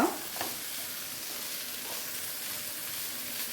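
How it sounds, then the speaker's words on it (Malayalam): A purple cabbage mezhukkupuratti stir-fry with grated coconut is stirred in a pan: a soft continuous sizzle with occasional spoon scrapes near the start, with no voices. "തേങ്ങ ചേർത്തിട്ട് അധികം നേരം കിടക്കണമെന്നില്ല നന്നായിട്ട് ഇളക്കി യോജിപ്പിക്കുക"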